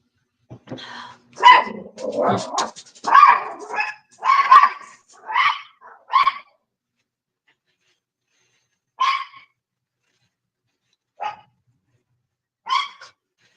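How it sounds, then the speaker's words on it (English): A dog grumbles and growls in the background, giving a cluster of rough barks and snarling yips followed by a few sparse single barks after a pause, close and fairly loud. "my dog is like being a badass in the background. He's grumbling and growling at his daughter"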